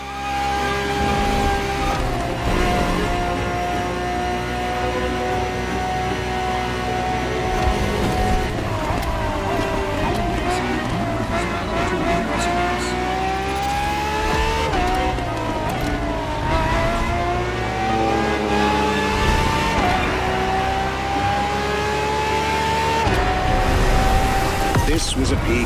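A Ferrari FXXK supercar's engine revs and climbs through gears in The Crew Motorfest, a loud continuous howl with rising pitch sweeps, under a narrator's steady voice.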